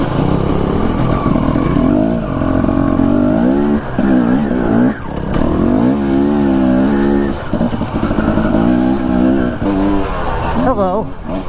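A two-stroke Husqvarna dirt bike rides over rocky winter terrain in Idaho, the engine revving and bogging in uneven bursts as it climbs, loud and close, with someone talking over it.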